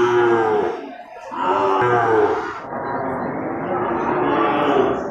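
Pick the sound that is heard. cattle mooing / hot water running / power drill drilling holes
cattle mooing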